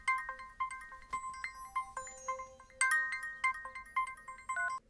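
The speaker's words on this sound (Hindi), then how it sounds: "अरे भाभी फोन कर रही है," A phone ringtone plays for an incoming call, a bright repeating electronic melody of chiming tones that rings steadily throughout, with no voices over it.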